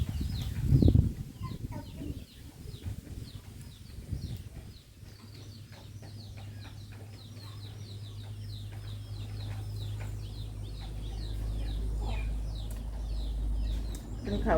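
Chickens cluck and chatter in short bursts at moderate distance, with a low rumble building underneath and some brief thumps early on.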